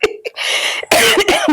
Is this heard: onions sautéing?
no